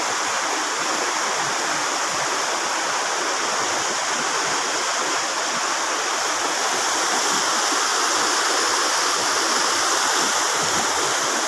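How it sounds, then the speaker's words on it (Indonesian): A clear river flows in a steady, full rushing wash heard close and continuous, with no one talking over it. "Ini sungainya ya. Jernih banget."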